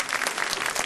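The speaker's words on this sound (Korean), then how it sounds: "우리 추첨에 수고해주신 마이스님께 박수 한번 부탁드리겠습니다." Audience applause after a prize drawing at a church youth worship service, a dense steady clatter of many hands clapping throughout, fairly close and full.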